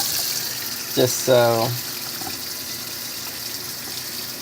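About a quarter cup of water poured into a pan of chicken and rice with raspberry hazelnut vinaigrette, a short splashing gush over a steady background hiss, with a brief spoken word nearby.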